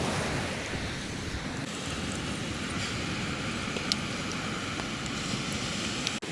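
Sea waves roll continuously onto a beach at Thiruchendur at night, a broad steady roar of surf with no voices.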